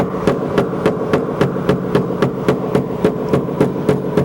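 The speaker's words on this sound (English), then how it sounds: "what I want to do now is take a pick hammer and pick those down, kind of sink them a little bit" A pick hammer taps dents down in a car's sheet-metal body panel during auto body repair, about seventeen sharp, evenly spaced metallic strikes in a steady rhythm, close and loud over a light background hum.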